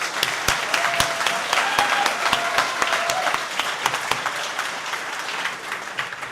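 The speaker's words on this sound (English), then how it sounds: "round of applause. Can I hear that one more time, a little bit louder?" A party convention crowd gives a keynote speaker a round of applause, steady clapping with a few sharp claps standing out, gradually thinning toward the end.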